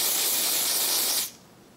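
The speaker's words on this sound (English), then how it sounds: "I'm just gonna spray this down." ORS olive oil wig grip spray hisses out of an aerosol can in one continuous close burst of just over a second, then cuts off abruptly into quiet.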